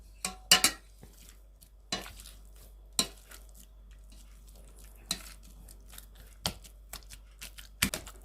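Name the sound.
mashing boiled potatoes in their cooking water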